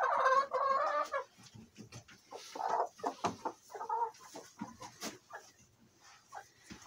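Chickens cluck and murmur nearby in irregular bursts, some louder squawky calls at the start, with quieter scratching sounds between.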